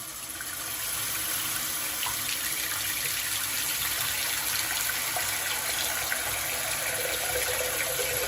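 Water runs steadily from a faucet into a clogged sink drain, a continuous close splashing rush that holds constant for the whole stretch with no talking.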